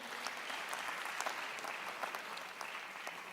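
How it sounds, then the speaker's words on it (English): Applause at a Lagos technical and business meeting, an even, steady clapping from a seated audience that holds at one level for the whole stretch, with no voices over it. "Another round of applause for our speaker"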